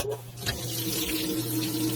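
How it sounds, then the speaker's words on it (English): Water runs steadily from the faucet feature of a Whirlpool 4.7 cu ft white top-load washer with removable agitator, a continuous close splashing stream filling the tub, with no talk over it. "Here I try out the faucet feature."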